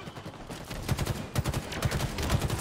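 Rapid gunshots in a video game, a quick series of punchy cracks over a couple of seconds at close range, with no talking.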